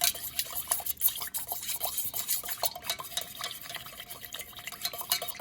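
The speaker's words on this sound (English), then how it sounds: "Once you add the fragrance oil, I like to stir it for like 30 minutes." Melted soy wax mixed with fragrance oil is being stirred in a container, giving light, quick scraping and tapping strokes in an irregular rhythm. The sound is close and fairly soft, with no talking.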